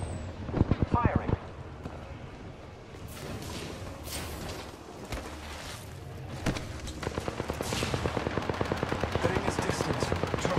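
Gunfire in the battle royale game Apex Legends, with a short cluster of loud shots early on, quieter game noise in the middle, and then a long rapid burst of automatic fire toward the end.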